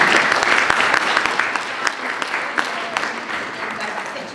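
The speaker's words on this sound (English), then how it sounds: "we have a quick round of applause for Robert" Audience applause for a presenter at a citizens' information forum on water, a dense burst of many hands clapping that gradually thins and softens over about four seconds.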